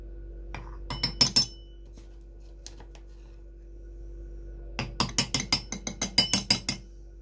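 A metal spoon measuring spices such as paprika, two bursts of quick bright clinks and taps against a container, close and crisp with quiet gaps between.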